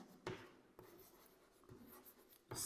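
Chalk or marker scratching across a classroom board during an optics lesson, a few short bursts of strokes up close with quiet gaps between, no voices.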